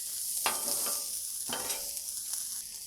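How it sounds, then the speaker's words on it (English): Onions fry in butter in a pan, giving a steady close sizzle broken by a few scraping bursts as they are stirred, with no talking. "Throw a nice knob of butter in and give this a nice mix"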